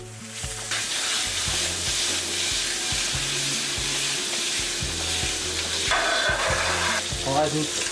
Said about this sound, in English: We add a knot of butter, roll it round,